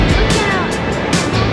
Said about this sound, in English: the kids wanted to get up close and personal with this waterfall